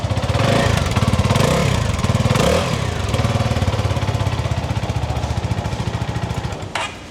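A CFMOTO 250SR motorcycle engine runs steadily and loudly up close, with a rapid pulsing idle that rises briefly around the middle before settling back to an even throb.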